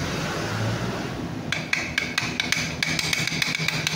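A Honda TMX 125 motorcycle with a crushed clutch damper, giving a steady engine drone and, after a moment, a quick series of metallic knocking clatters close by.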